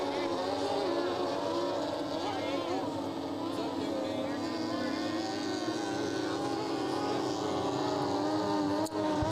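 Racing boats powered by Mercury six-cylinder and Evinrude outboard engines drone at an event on water, a steady buzzing engine roar heard at a distance under a commentator's continuous talk.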